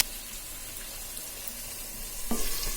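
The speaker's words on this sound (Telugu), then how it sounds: "వెల్లుల్లిపాయలు వేసాం కదండి, కొద్దిగా టమాటాలు వేస్తున్నానండి." Tomatoes go into a pan of sizzling garlic and curry leaves, a steady frying hiss with a louder burst of sizzle and stirring near the end.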